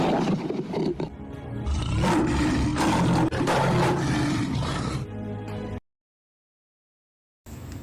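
Two lions roar loudly and close in a dramatized film scene, a long rough sustained roar with brief dips, then abrupt silence before the sound resumes at the end.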